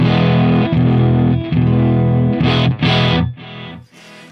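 A Yamaha Pacifica 112J electric guitar plays through a Marshall Plexi amp on a clean tone, with sustained, slightly gritty chords ringing out loudly and then dying away near the end.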